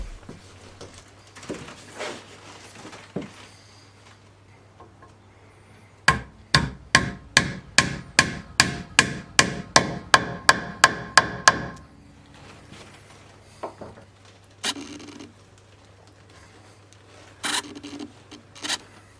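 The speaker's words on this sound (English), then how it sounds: "they're going to hammer this nut home" About fifteen sharp, evenly spaced hammer strikes drive a glued nut into timber in a steady rhythm, followed by scattered lighter knocks and handling sounds.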